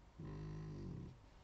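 A pet snoring somewhere behind makes a single low, droning breath of about a second, muffled and moderately close in an otherwise quiet room.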